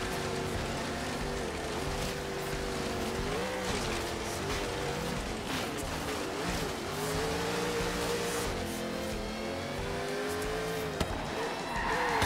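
A modified car drives in Forza Horizon 3, its engine droning loudly and steadily, with the pitch rising and falling through gear changes and tire noise running throughout.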